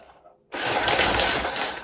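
A Philips FC8381 vacuum cleaner, weak on suction, reels in its power cord with a sudden loud, dense whirring rattle that starts abruptly after a quiet moment and runs steadily to the end.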